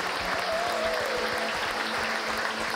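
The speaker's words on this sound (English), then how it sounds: "To see all of our family and friends clapping, it is very emotional." Family and friends clap and applaud in the studio audience at the grand final of a cooking competition show, a full, continuous wash of clapping that holds steady from start to finish.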